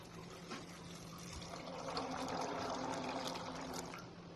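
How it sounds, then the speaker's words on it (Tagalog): A pitcher of water poured into a cooking pot for bignay jam, a continuous close trickling pour that swells slightly in the middle and stays steady throughout, without talk. "Lagyan natin siya ng isang pitcher na tubig."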